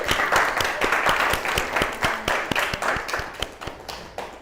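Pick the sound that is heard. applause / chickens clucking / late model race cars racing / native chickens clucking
applause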